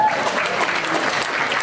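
A studio audience applauds in a short, dense, steady burst of clapping.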